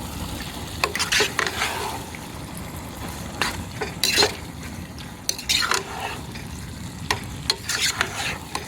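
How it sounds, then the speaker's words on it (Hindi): About 1.25 kilograms of chicken stirred in a hot pan, steady sizzling broken by repeated clanks and scrapes of the spatula against the metal. "इसको अच्छी तरह मिक्स कर लेंगे"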